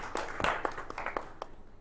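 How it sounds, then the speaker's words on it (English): Sparse, scattered hand claps from a modest audience at a manufacturing agenda launch event, a handful of distinct claps fading out quickly in a quiet room. "Let's give him a round of applause."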